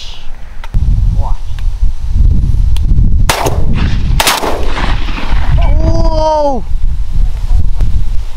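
Shotgun blasts during a mourning dove hunt outdoors, two sharp loud reports a second apart under wind noise and rustling, with hunters talking and shouting nearby.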